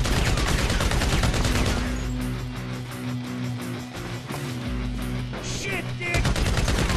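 Dense automatic gunfire from a GTA 5 Online survival mode match, sustained loud bursts layered with game music and rumbling effects, continuous for the whole stretch.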